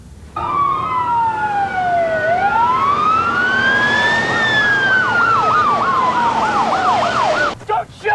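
A loud, close police emergency vehicle siren sweeps up and down in long wails, then shifts to a rapid warbling yelp before cutting off.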